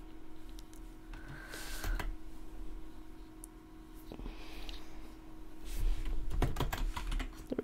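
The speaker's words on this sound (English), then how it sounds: "Pressing buttons, hoping that somehow makes it go faster." Computer keyboard keys tapped while playing an indie game jam title, scattered clicks and short bursts of typing, close and moderately loud, growing busier toward the end over a steady background hum.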